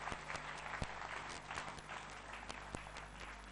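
A church congregation applauds, dense steady clapping from many hands with a few sharper claps standing out, filling the space at moderate distance.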